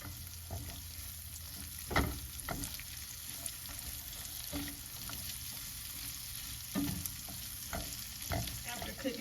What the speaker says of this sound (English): you are going to cook these onions for about 2 minutes, just until they are nice and translucent